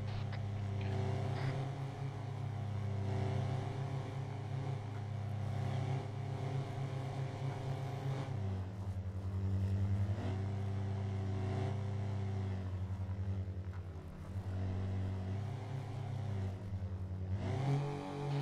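Car engine in a roleplay video game, a continuous droning motor whose pitch rises and dips as it accelerates and shifts along the road, steady and fairly faint with no talk.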